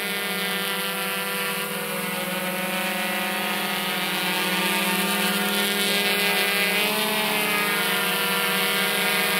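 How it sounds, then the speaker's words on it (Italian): GoPro Karma quadcopter drone hovering and yawing in place, its rotors giving a loud, close, steady high-pitched buzz with layered tonal whine that shifts pitch slightly as it rotates. "ma il drone mi sembra abbastanza fermo"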